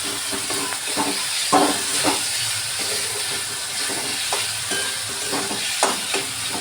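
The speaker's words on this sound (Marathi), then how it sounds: "असं हलवून घ्यायचं थोडं टमाटर मऊ होते मिठामुळे" Tomatoes with salt and a little turmeric are stirred in a hot pan, giving a steady sizzling hiss with periodic scraping strokes of the spoon, close and free of talk.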